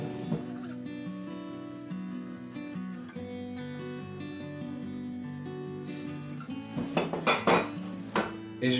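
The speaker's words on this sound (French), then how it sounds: "je vais mélanger délicatement à l'aide de ma maryse" Cake batter is folded gently with a silicone spatula in a bowl, giving soft scraping and occasional clinks against the bowl. Background music plays throughout, and a few louder knocks come near the end.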